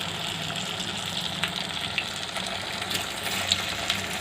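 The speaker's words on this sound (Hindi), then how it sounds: "तो हम इसको अब फ्राई कर लेंगे" Taro leaf pakoras fry in hot oil, giving a steady close sizzle with small pops and crackles scattered through it and no talking.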